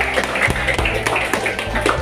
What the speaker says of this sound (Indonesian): Berikan tepuk tangan nak.